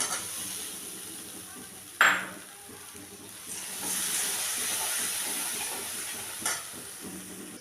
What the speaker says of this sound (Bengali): দিলাম খুব সামান্য পরিমাণে একটুখানি গরম মশলা দিয়ে আমি এটাকে ভেজে নেব